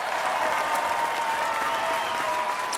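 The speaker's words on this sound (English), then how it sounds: "Let's give Dashfire a round of applause" Sustained applause from a crowd filling the whole stretch evenly, steady and fairly loud with no individual claps standing out, for a livestream reaction show.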